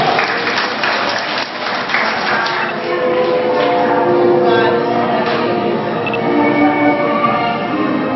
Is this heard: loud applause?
yes